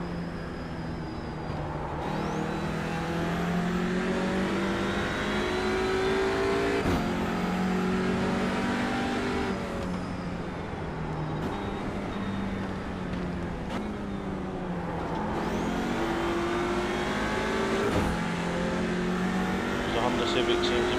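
A Honda Civic TCR race car in iRacing at Imola holds a loud, continuous engine drone with rising and falling revs and gear shifts, while other cars run close by.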